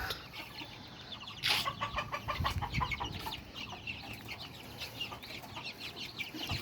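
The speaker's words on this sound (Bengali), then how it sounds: "এই হচ্ছে আমার ছাদের উপরে মিশরীয় ফার্মি মুরগি পালন" Egyptian Fayoumi chickens on a rooftop farm clucking repeatedly in quick overlapping bursts, moderately close and fairly quiet, with no talk.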